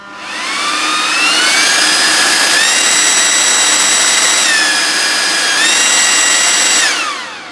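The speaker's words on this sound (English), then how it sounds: "it's also got this turbo mode which gives it kind of a boost" A Ryobi 40V lithium battery lawn tool spins up to a loud, steady whine, steps up in pitch when turbo mode kicks in, drops back, boosts again, then winds down.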